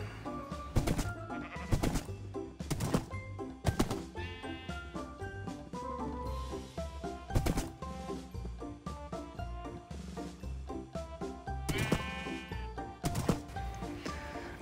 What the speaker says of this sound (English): I think we are being stalked by a little sheep.